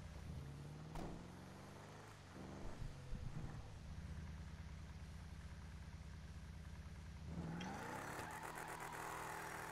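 A super rat truck engine revs while driving, rising and climbing in pitch through the gears with a sharp surge near the end, steady mechanical drone throughout and no voices.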